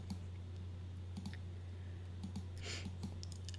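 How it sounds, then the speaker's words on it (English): Computer mouse clicking during Photoshop editing: a handful of light, sharp clicks scattered over a few seconds, faint and close, over a steady low electrical hum, with no talking. "I'm just clicking and dragging"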